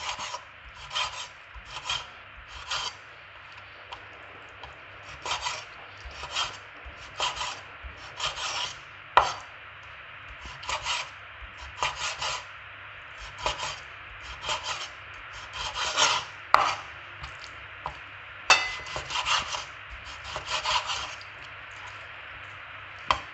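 A knife cutting beef into pieces for Kerala-style beef fry, producing a long run of rhythmic rasping strokes and occasional sharp taps on a board, close and fairly quiet, with no talk.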